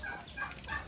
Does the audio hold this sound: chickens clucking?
yes